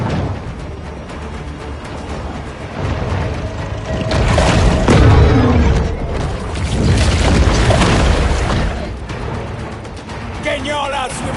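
Torpedo blast in the shark game Maneater, a heavy booming rumble swelling from mid-clip with crashing debris and mechanical clatter, mixed with game sound and a voice talking over it.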